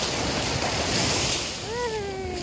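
Sea waves wash onto a white sand beach at Iba, Zambales in a continuous surf roar buffeted by wind on the microphone, and a brief voice rises near the end.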